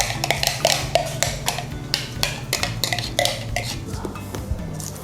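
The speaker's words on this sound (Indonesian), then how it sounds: "Sekarang kita tumis bumbu halusnya," A spatula clatters and scrapes against a pan while ground spice paste is sautéed for sate garo, with steady metallic clinks and stirring strokes under a constant tonal background.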